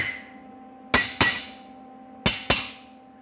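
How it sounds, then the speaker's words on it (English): A hammer strikes a 55 lb Harbor Freight cast iron anvil with a steel top, giving four sharp ringing clanks in two quick pairs, each leaving a bright metallic ring that lingers over a faint steady hum. "The hammer."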